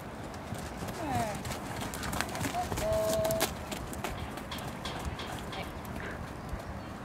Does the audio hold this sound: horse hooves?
yes